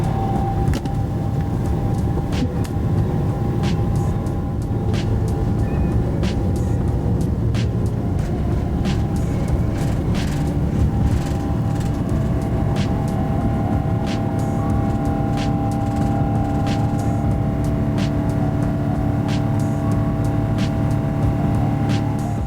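Air Canada Boeing 777-300ER on its takeoff roll from Toronto, runway 23, bound for Frankfurt: a loud, steady roar of jet engines and cabin rumble that holds without a break, with no talking.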